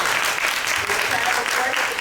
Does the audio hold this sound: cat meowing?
no